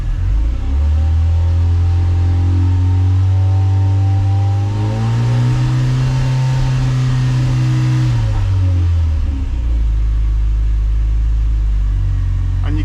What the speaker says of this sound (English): you can actually hear the alternator whirring a little bit where it's working